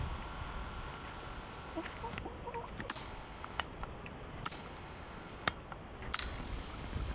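Soft, scattered hen clucks and short calls over a steady outdoor hiss, with a few sharper chirps standing out now and then.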